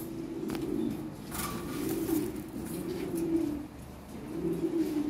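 Toy Lahori pigeons at a pigeon farm coo in low, rolling, repeated calls that pulse in overlapping waves, close and steady, with faint background noise and no talking.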